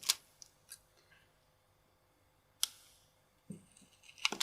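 Scissors cut salon nail files in half, from 100 to 240 grit, producing a few sharp, close snips and clicks separated by quiet pauses, with a cluster of quick snaps at the end.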